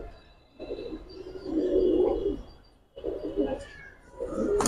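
Giribaz and coloured pigeons cooing at a pigeon market, low soft coos rising in two or three bursts with a steady murmur of background noise between them.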